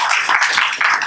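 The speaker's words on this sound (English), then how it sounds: "I request all of you to give a big clap to Professor Roy" An audience claps for Professor Roy at a lecture session on quantum physics, brain function and Buddhist philosophy: steady, moderately loud applause with bursts of handclaps and no talk over it.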